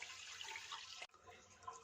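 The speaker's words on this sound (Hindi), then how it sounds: "3-4 पानियों में अच्छी तरह से चावलों को धो लेंगे" Rice is rinsed by hand in a pot of water, making steady sloshing and splashing with a brief break midway, fairly soft and close.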